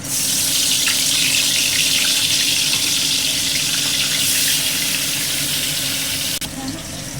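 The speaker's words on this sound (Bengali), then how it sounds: "তেলটা আমার গরম হয়ে গেছে, এবার আমি মাছটা এক এক করে ছেড়ে নিয়ে ভেজে নেব" Fish frying in hot oil, a loud, close, continuous crackling sizzle that holds steady for several seconds before dropping briefly near the end.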